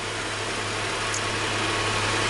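A Subaru EZ30R flat-six idles steadily at close range, a constant broadband hum with a faint, very slight tick from the back of the engine barely standing out.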